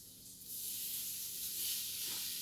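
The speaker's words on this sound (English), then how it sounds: "So you just spray and make sure it doesn't stick in there." Cooking spray hissing into a Ninja Foodi basket, a bright sustained spray starting after a brief quiet moment and continuing steadily close up, no talking.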